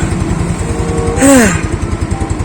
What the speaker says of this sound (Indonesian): Akhirnya nyala juga nih motor.